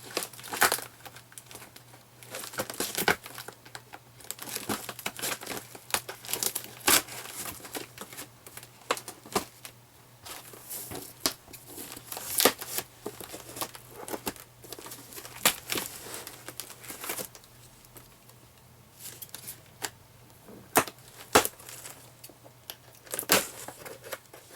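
Tearing and crinkling at a taped-up package during an unboxing of a 1940 Featherweight 221 sewing machine, with irregular bursts of ripping tape, rustling cardboard and paper handling up close, with a low steady hum beneath.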